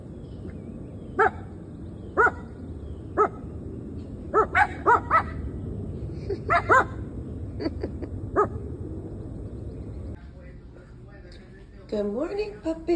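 Small pet dogs bark repeatedly indoors, a string of sharp, fairly close yaps in irregular bursts, with a person speaking toward the end.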